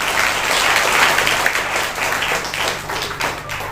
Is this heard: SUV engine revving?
no